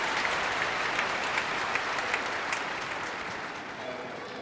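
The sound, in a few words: tennis crowd applauding in stadium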